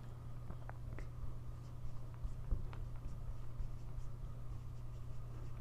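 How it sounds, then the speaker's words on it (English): Marker or chalk writing on a board in a chemistry lecture, with faint, scattered squeaky strokes and taps over a steady low room hum. "Let me write it here."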